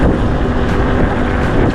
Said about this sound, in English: It's hella windy today.